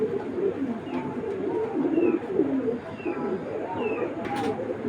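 Pigeons of foreign fancy breeds coo steadily nearby, their soft rolling calls overlapping, with a faint chirp or two in the background.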